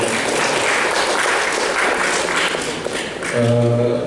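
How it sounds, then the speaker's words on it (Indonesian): Seminar audience applauding at the close of an archaeology seminar on the Aceh Sultanate palace, a dense, steady wash of many hands clapping throughout, with a brief sustained tone swelling near the end. "mari kita sama-sama berikan aplaus kepada kedua narasumber"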